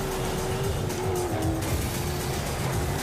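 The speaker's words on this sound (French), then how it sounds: "je lance un peu de turbo" Off-road racing car in MotorStorm on a mountain course, engine roaring steadily with a rising turbo whine and tyre noise, continuous and close.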